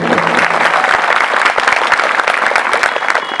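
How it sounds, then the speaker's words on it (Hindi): Schoolmates clapping during a farewell speech at a school, loud continuous applause from a crowd of students with dense overlapping claps throughout. "बीच में ताली बजा दोगे चल जाएगा।"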